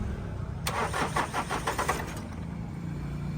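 A Ford Ranger's engine is cranked after an injector repair. It whirs rhythmically for about a second and a half, then catches into a steady idle, close up with no talk.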